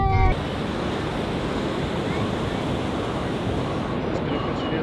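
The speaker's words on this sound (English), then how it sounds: "There it is, guys, can you see the beach?" Ocean waves roll onto Polzeath Beach as a continuous, loud broadband rush of surf mixed with wind buffeting the microphone. A brief sound is heard at the very start.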